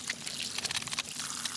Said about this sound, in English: Is there enough water flowing through that sluice?